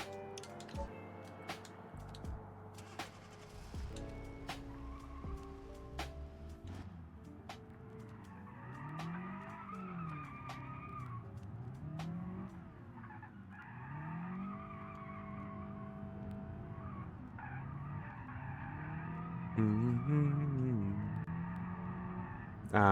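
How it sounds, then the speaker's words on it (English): Car tires squeal through repeated skids, with rising and falling whines over a revving engine, loud and sustained across the stretch with brief clunks in between. "Ah, the wonderful sound of squealing tires."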